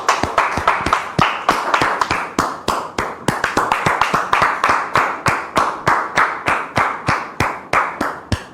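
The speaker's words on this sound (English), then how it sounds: "Our guest today is Brother Kwasi Romaric, whom we welcome here with your applause." A small crowd applauds steadily, sharp claps landing in a fairly even rhythm for several seconds with no voices over them.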